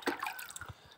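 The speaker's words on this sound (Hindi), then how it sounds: "बस मैं यहाँ पे एक एक करके पौधों में पानी डाल दूँगी" Water poured by hand onto potted plants one at a time, a short burst of splashing and trickling that is moderately faint with no voices.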